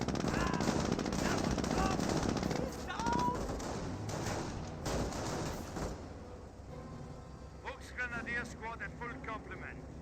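Machine-gun and rifle fire from the Company of Heroes war game rattles in fast bursts while someone talks over it, the shooting fading later as other battle effects chirp.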